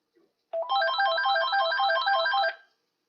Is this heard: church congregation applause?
no